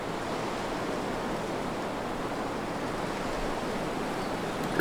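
Steady, broadband wind roars without pause in The Long Dark, a cold wilderness survival video game, a constant loud rushing with no talk over it.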